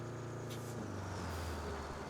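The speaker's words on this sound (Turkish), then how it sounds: "Sesi berbat yalnız kamyonun." A truck engine in the video game RoadCraft idles with a low, steady drone that shifts pitch partway through, accompanied by a brief hiss, fairly close with no speech.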